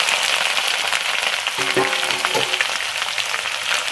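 Garlic paste with cinnamon, cloves and cardamom sizzling in hot oil, a loud, steady, close frying hiss throughout with a brief stirring scrape near the middle and no voices.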